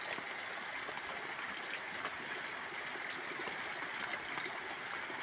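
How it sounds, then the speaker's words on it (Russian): Heavy downpour outdoors with rainwater running and dripping all around, a steady dense hiss of falling water at even loudness throughout, no voices. "Шумит вода кругом, капает."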